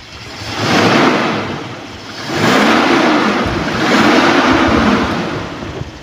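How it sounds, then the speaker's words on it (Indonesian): A 1997 Toyota Kijang LGX engine revved in loud repeated surges, three rising and falling roars with a rough, wind-buffeted rumble, close to the microphone. "kita agak geber suaranya ya"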